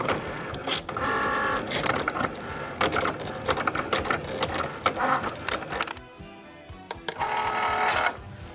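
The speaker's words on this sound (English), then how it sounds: "we'll load and cut. Simple as that." A vinyl cutter plotter slices paint decals for a Losi Super Baja Rey 2.0 body, whirring and stuttering with rapid mechanical clicks and motor runs up close, pausing briefly before resuming.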